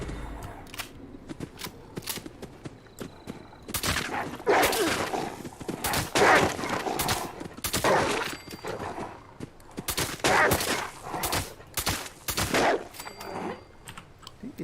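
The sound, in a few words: gunfire in the video game Fallout 76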